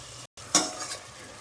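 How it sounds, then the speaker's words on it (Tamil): Masala being stirred and sautéed in a pan for paneer biryani: a single scrape of a spoon against the pan over a soft, steady sizzle, heard close after a brief dropout. "எல்லாத்தையும் நல்லா வதக்கிட்டேன்."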